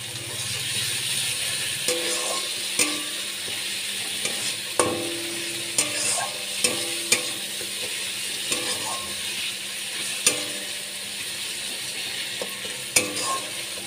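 Masala sizzles in oil in a pan for an egg and potato curry, a constant close frying hiss with frequent sharp clinks and scrapes of a spoon stirring against the pan, no voices.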